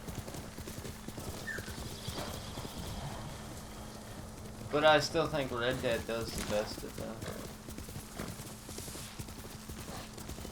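A horse's hooves clip-clop at a steady run in the video game Ghost of Tsushima, with light rain in the background and a person talking over it.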